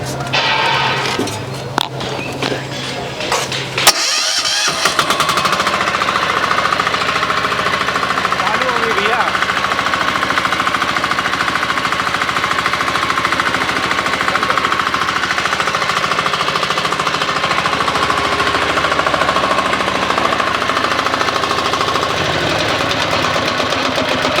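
A BTS Rudra multi-utility tractor self-starts with a brief cranking sound, then its engine catches and settles into a loud, steady knocking idle that runs for about twenty seconds. Voices are heard during the start.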